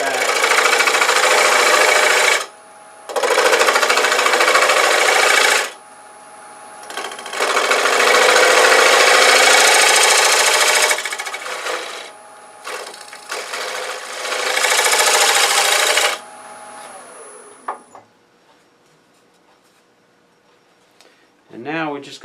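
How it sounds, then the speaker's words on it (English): A deep fluted gouge cutting back a wood jamb chuck on a lathe while turning a medallion ornament, heard as long loud broadband bursts of cutting separated by short pauses, with the lathe's whine continuing, then fading to quiet near the end. "So I'm just going to use a deep fluted gouge."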